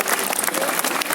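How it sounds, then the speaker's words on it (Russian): Brief burst of audience applause at a Lawrence Krauss science talk during Kaspersky Geek Picnic 2017 in Moscow, dense steady clapping from a crowd filling the short moment. "Спасибо большое, аплодисменты."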